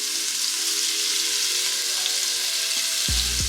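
Beef pieces laid in a single layer in a pan sizzle in hot avocado oil, a loud, dense crackle throughout with a low thump of contact near the end.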